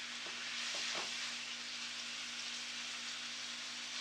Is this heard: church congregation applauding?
no